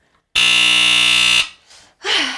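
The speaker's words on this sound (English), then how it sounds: "Yes, it's a smoke detector." A piercing, steady electronic alarm beep blares loudly for about a second, then stops, followed by brief rustling and a short voice-like sound.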